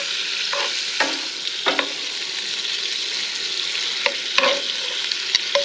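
Crappie fillets frying in butter in a pan, a steady close sizzle running throughout with occasional scrapes and stirring taps from a utensil.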